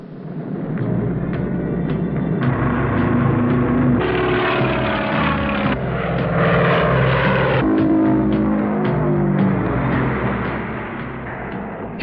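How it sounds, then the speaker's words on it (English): An early-1930s Boeing 247 propeller airliner drones steadily and fairly loudly throughout, its engine note rising and falling slightly with no talking. "Here is the Boeing 247 of the early 30s."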